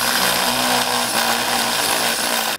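A power drill bores out a hole in a Land Cruiser's metal battery mount, whining loudly and steadily for a couple of seconds before cutting off abruptly.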